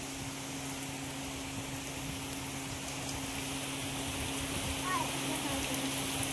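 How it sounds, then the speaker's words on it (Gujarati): Heavy rain pours down steadily outdoors, a constant dense wash of falling water with a low hum underneath, holding an even, loud level throughout. "હા આવ્યો હો મિત્રો, આવ્યો વરસાદ આવ્યો."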